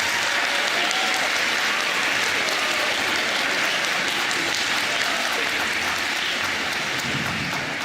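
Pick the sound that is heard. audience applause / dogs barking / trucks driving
audience applause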